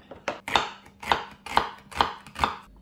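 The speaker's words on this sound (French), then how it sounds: "je coupe les légumes en bâtonnets" A knife chopping vegetables into sticks on a board, five or six evenly spaced crisp chops with a steady rhythm, close and clear with nothing else heard.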